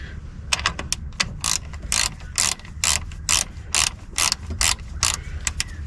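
A ratchet wrench clicks as it turns a 13 mm nut on a battery terminal of a 6x6 Perentie. Quick bursts of close, crisp ratcheting come in an uneven back-and-forth rhythm, with no talking.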